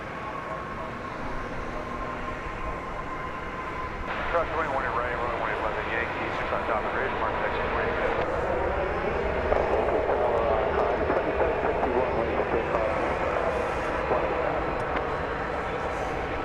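American Airlines Flight 1595 from Austin lands at DFW Airport with a moderate, steady jet engine rumble and whine that grows stronger and shifts in pitch as the plane comes in.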